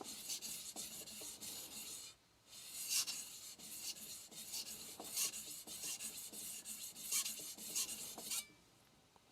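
A knife blade is drawn back and forth across an ALTSTONE Fukami whetstone in steady, close, gritty rasping strokes, pausing once around the two-second mark.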